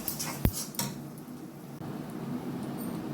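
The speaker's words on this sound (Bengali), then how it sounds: "এবার নাড়িয়ে নেব।" Spiral gourd mash is stirred in a pan: a sharp metal clink of a utensil against the pan, then a second softer knock and some faint scraping, followed by a quiet background hum.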